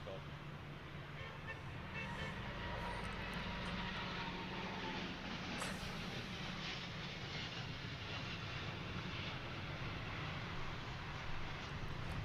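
An airplane pulls up from an aborted landing, and its engines roar as a steady, broadband rumble. The sound is loud and constant throughout, with no clear breaks.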